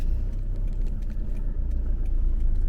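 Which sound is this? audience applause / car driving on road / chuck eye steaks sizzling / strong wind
car driving on road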